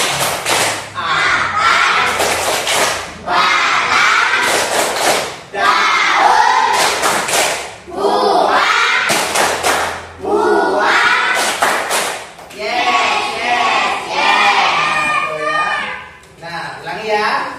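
A primary school class performs the rhythmic 'tepuk tumbuhan' clapping chant. Loud, close bursts of children's voices chanting mix with thumping claps in repeated phrases separated by short pauses.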